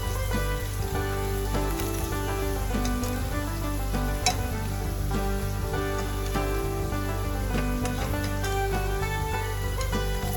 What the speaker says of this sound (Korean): 올리브유 5큰술을 넣고 편썬 마늘을 넣어서 마늘이 노릇노릇해질 때까지 기다려 주세요